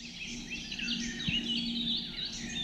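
A golden oriole sings from a patch of trees near a bird hide in the Fochteloërveen wetlands of the Netherlands, its warbling phrases fairly clear over a soft insect-like hiss.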